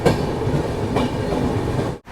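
Ananya Express rolling along the rails after leaving Bardhaman, a steady close rumble with rhythmic wheel clatter for about two seconds before a brief sharp dip in level at the end; no voices.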